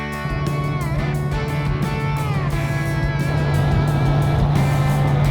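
Toyota 4Runner driving on a road, a steady loud engine and road drone with a constant low hum that holds throughout, no voices.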